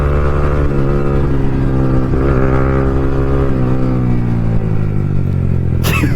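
Motorcycles fitted with aftermarket exhausts rev and drone loudly while riding in a group, a steady rumbling engine tone rising and falling with throttle, with wind noise throughout.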